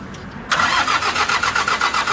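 An old tractor engine, near the end of its life, cranks and catches after a jump start, then settles into a loud, steady mechanical clatter with a regular pulsing rhythm close by.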